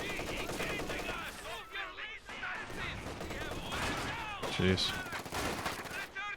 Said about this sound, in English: Of course, he's got an MG right outside my base.